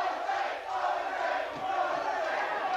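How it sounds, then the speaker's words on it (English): A boxing arena crowd at a Tyson bout roars and takes up a rhythmic chant of a fighter's name, a dense, steady wall of voices heard from a distance with no commentary over it. "Crowd taking up a chant of Jose."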